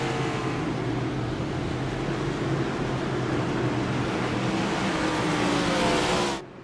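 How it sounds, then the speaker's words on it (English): The iRacing official pace car in a Cup Series stock car race in the iRacing video game, a loud steady engine roar sweeping past close by for several seconds before cutting off abruptly. "As the pace car comes by, the iRacing official pace car will drop in for the third time tonight"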